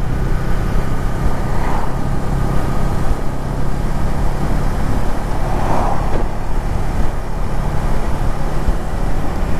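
Steady low rumble of a 2018 Honda Rebel motorcycle engine while riding, a continuous drone mixed with wind and road noise and no real rise or fall over the whole stretch.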